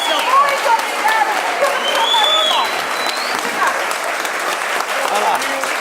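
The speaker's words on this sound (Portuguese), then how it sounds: "Palmas para o subcomandante da Polícia Militar." A crowd at a tribute ceremony applauds loudly and steadily for several seconds, with voices and cheering mixed into the clapping.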